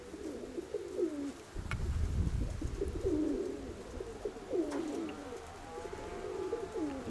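A pigeon coos repeatedly in low, rolling phrases, fairly close, with soft outdoor background noise and occasional faint chirps.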